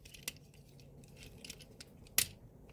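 A part of a Transformers Age of the Primes Megatronus toy snaps into place with one crisp, close plastic click after faint handling noises, in a quiet setting.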